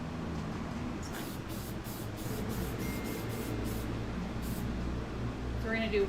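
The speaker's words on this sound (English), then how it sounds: "we're going to do one really good thick coat of the archival spray" An archival spray can hisses in repeated short bursts while coating a piece of alcohol ink art, each spray a sharp close hiss over a low steady background hum.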